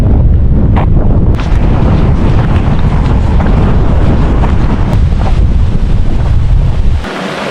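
Strong gusting wind of around 20 to 30 miles an hour up on the open North Yorkshire Moors, loud roaring buffets battering the microphone continuously, easing slightly at the very end.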